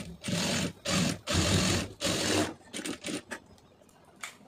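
Sewing machine stitching the folded neckline of a blouse, running in several loud bursts with short pauses between them, then a few brief faint whirs toward the end.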